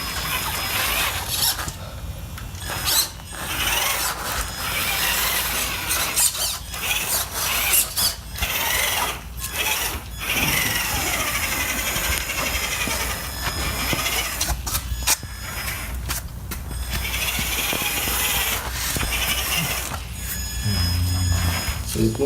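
Repaired brushed electric motor driving a small vehicle across the ground in low then high gear, a continuous whirring rattle with gritty clicking and rolling noise, surging and easing as it moves.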